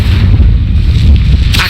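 A fire spell cast in Hogwarts Legacy, a loud low rumbling whoosh sustained for under two seconds, with a brighter crackling burst flaring near the end, no voices.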